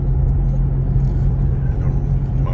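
A car's engine and tire rumble fill the cabin while driving through city streets near Crystal City, a loud, steady low drone without talk.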